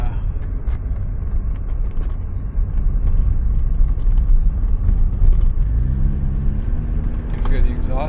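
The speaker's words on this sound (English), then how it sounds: "you can hear the exhaust" A 1991 VW Golf 2 with a 1.8-litre 90 HP engine and three-speed automatic drives at night with a window lowered, its exhaust a steady low rumble under road and cabin noise, with faint mechanical ticks and rattles throughout.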